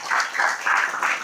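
Audience at a Telugu Christian church service claps loudly together in praise, a steady burst of broadband applause swelling in a few waves over a short moment, with no voices over it.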